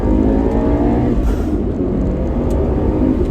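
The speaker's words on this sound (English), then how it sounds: "I'm gonna give it a little gas here" A Subaru Impreza 22B engine revs hard and loud under acceleration, a steady close roar that holds for the whole few seconds with no talking.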